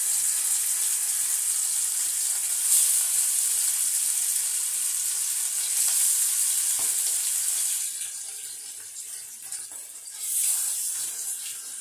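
Fish frying in oil gives a continuous hissing sizzle that fades for a stretch and then swells back up, with no talking.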